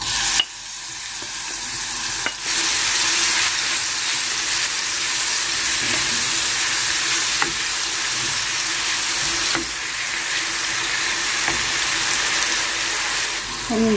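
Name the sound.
onion frying in oil in a pan on the stove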